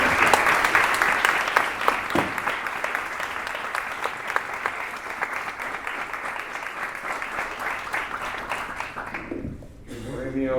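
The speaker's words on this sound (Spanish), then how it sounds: "lo que pido es que le mandemos un fuerte aplauso a través de la filmación" Sustained applause from an audience at an award ceremony for a first-prize winner in a teachers' category, dense and steady for about nine seconds before fading out as a voice begins speaking.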